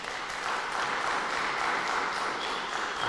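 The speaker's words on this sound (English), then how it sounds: "Let's give Paulo a quick round of applause." A crowd applauds steadily at a table tennis masterclass, a dense wash of clapping that stays even and loud throughout with no talking.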